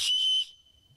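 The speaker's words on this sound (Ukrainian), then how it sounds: "ділиться секретом, як можна зробити свисток із шапки жолудя" A shrill, piercing whistle blown through an acorn cap held between the fingers sounds loudly for about half a second, then fades into a thin lingering tone.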